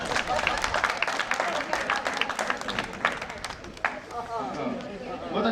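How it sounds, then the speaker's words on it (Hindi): A crowd claps steadily and densely for several seconds in a lively gathering, the applause close and continuous, thinning near the end as voices come through. "ताली बजाने से हमारी सर्दी भाग रही है"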